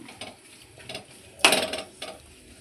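A lid goes onto a pot of simmering chicken curry with one sharp metallic clatter, close and fairly quiet. Softer utensil clinks come before and after it.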